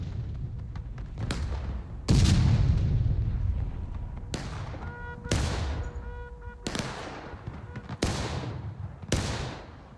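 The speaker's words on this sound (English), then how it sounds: "And shells are now becoming a barrage." Booming artillery shells from a War of Rights battle over a farm land in a slow barrage, about seven heavy blasts spaced a second or two apart, each rolling off into a long rumbling tail.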